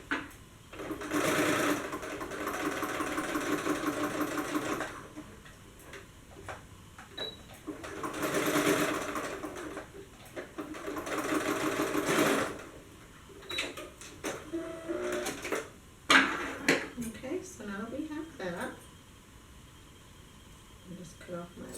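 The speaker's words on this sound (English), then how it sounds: "Straight stitch all the way across." A sewing machine runs straight stitches across fabric for a dance crop top in three sustained bursts, close and steady, separated by pauses where someone talks over light handling noise.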